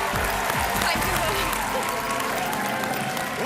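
A studio audience on a Hindi TV quiz show applauds in a full, sustained burst of clapping that stays loud and even from start to finish.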